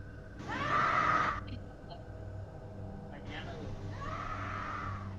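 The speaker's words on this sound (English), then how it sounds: "You can hear a woman scream." A woman screams at night, captured on a distant recording: one long, shrill cry, a pause, then a second fainter, drawn-out scream over low background hum.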